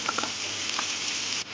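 A steady hiss and crackle of chopped onions frying in hot oil with cinnamon, cloves and fennel seeds, with a few soft stirring patters, close and continuous.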